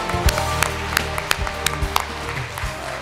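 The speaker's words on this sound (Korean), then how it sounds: "박수 보내주세요." Audience applause at a Korean International Human Club 29th anniversary ceremony: a steady wash of hand clapping with scattered sharper claps, moderately loud and continuous over a low hum.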